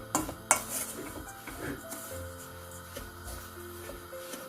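Sugar stirs in a pan over gentle gas heat for homemade strawberry jam, a metal spoon scraping and clinking against the pan with a couple of sharper knocks early on, then softer steady stirring.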